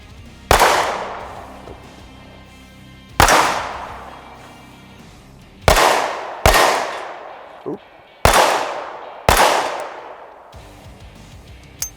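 A Springfield Armory Hellcat micro-compact pistol fires six loud, sharp shots outdoors during a shooting drill, spaced unevenly with a longer pause mid-string, each crack followed by a short ringing decay.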